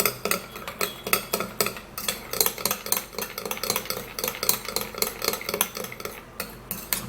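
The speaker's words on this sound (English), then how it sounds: "And now we'll have to stir and mix this all up." Rapid, rhythmic stirring of a homemade hair removal mixture in a bowl, a steady train of close clinks and scrapes of the utensil with no pauses.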